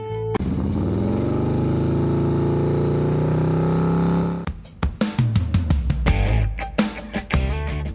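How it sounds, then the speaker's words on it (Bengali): A cartoon motorbike engine starts with a sustained, steady drone for about four seconds, then breaks into loud, choppy revving bursts and throttle blips that rise and fall unevenly. "চল তাড়াতাড়ি বাইকটা স্টার্ট দে, আমরাও এদেরকে বাইক রেসিং করে ওভারটেক করে হারিয়ে দিব।"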